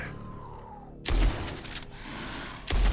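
Long rifle shots in the Blood West undead western shooter, two heavy booming blasts about one and a half seconds apart, each with a trailing rumble, loud and close.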